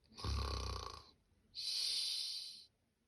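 A voice imitates snoring: two long, rasping snores, the first with a deep rumbling inhale and the second a breathier drawn-out one, close and fairly quiet.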